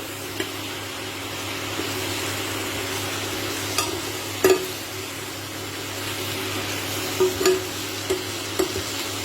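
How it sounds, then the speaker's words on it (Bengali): Potatoes with a splash of water stirred in a pan, a steady low hiss under occasional soft scraping knocks of a spoon against the pan, close and moderately quiet. "দিয়ে একটু ভালো করে নেড়ে নিচ্ছি।"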